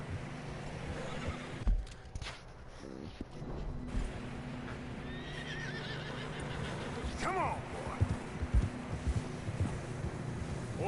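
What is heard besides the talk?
horses' hooves on snow in video game Red Dead Redemption 2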